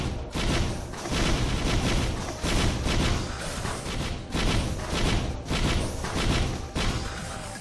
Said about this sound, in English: Also, that explosion, is very loud.